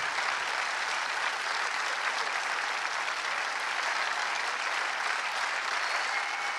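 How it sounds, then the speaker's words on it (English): Sustained applause from a large audience at the world premiere of Terminator 2 in 3D at the Berlin Film Festival, a dense, steady clapping texture filling the whole stretch without a break. "Sounds like a great crowd."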